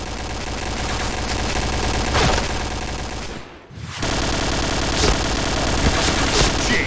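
AUG rifle fire in the Point Blank shooter game: dense, continuous automatic bursts, loud and close, with a brief lull midway before the rapid shots resume.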